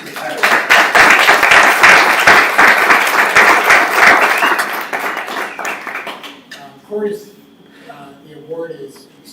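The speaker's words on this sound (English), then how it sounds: "I know some of you were going to give him a round of applause." An audience at a school board meeting gives a loud round of applause that fades after about five seconds, followed by a person speaking.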